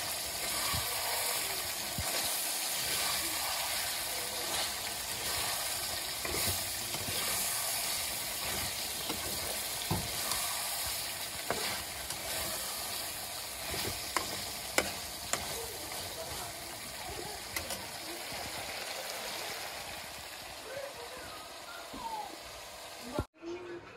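Meat frying and sizzling in a pan in a village kitchen in Bangladesh, a steady hiss with scraping stir strokes throughout and occasional utensil knocks, continuing almost to the end.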